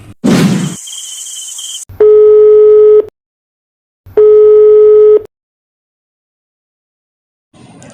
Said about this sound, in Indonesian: Kok Luna ditelepon-telepon gak diangkat sih?